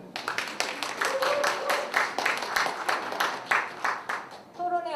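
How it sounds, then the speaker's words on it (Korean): Dense audience applause for a moderator and panel at a university graduate school academic festival, steady clapping for about five seconds in an indoor hall, with a brief tonal sound near the end. "첫 번째 파트 토론을 잘 이끌어주신 사회자 및 패널 여러분께 박수 부탁드립니다"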